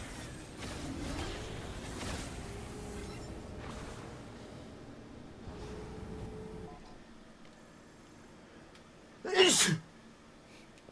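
A single sharp sneeze bursts out near the end, loud and close, after a stretch of quiet background rumble and faint movement.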